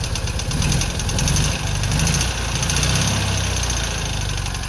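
An old engine, running rich after sitting unused for 50 years, idles roughly up close, with a steady, uneven chugging rhythm and a rattly, vibrating drone throughout.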